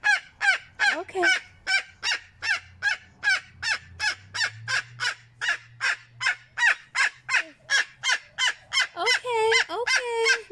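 Loud, repeated harsh screeches from a cockatoo, around two dozen rhythmic calls in quick succession, close and dominant, with faint background hum.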